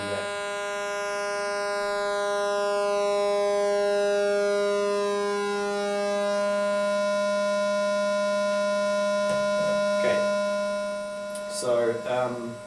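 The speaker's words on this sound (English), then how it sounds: "So that's square pulse wave." Steady electronic square pulse wave from a synthesizer, a bright buzzy tone with strong harmonics holding one pitch, its timbre shifting as the pulse width changes, with a few short clicks near the end.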